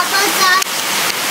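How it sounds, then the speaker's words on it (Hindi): Heavy rain pours down on Diwali evening, a loud, dense, steady hiss across a brief moment, with a voice faintly heard near the start. "बहुत तेज बारिश आ गई है"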